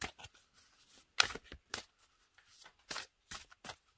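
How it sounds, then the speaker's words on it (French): Oracle cards being shuffled by hand give a series of soft, papery riffles and flicks in quick bursts, close and quiet, with no talk. "Elles se mélangent super bien."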